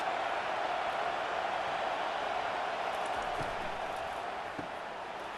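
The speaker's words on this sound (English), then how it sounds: "It is getting loud as this crowd tries to help its defense." A large video game stadium crowd at a Wisconsin vs Iowa college football game roars steadily and loudly throughout, a dense sustained wash of cheering with no pauses.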